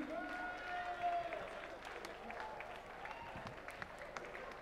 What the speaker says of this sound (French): Merci de les applaudir encore, s'il vous plaît.